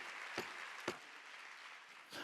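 Applause from a church congregation at a university and young-adult retreat worship service, a steady diffuse patter of clapping hands with a few sharper claps standing out, moderately faint, with no voices.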